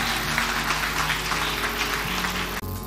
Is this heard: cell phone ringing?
no